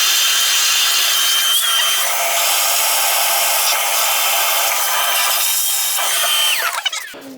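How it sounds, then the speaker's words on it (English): A shop vacuum with its head taken off roars steadily as its bare hose sucks at a clogged toilet, a loud continuous whoosh that stays close and even before sputtering out near the end. "if I take the head off this vacuum, I can stick this in. We might be able to actually suck out what the object was."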